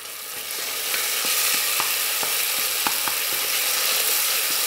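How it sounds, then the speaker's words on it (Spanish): Garlic, saffron and ñora pepper paste with hazelnut sizzles steadily in a pan with tomato, a continuous close frying hiss broken by occasional clicks and scrapes of stirring. "Lo sofreímos junto al tomate."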